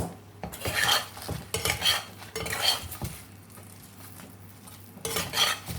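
A spoon stirs a Sindhi-style eggplant and potato fry in a pan, scraping and clattering up close in several short bursts with brief pauses between and no voices.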